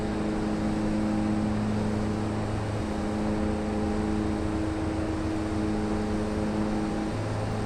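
The engines of a DHC-6-300 Twin Otter in FSX drone steadily with a constant turboprop hum, their tone shifting as power is increased.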